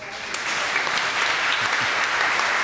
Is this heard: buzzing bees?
no